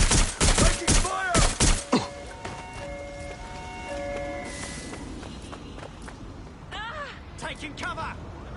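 Gunfire in a police shooter video game, several sharp shots cracking in a quick burst near the start, then scattered later reports under shouted radio-style voices and a steady background bed.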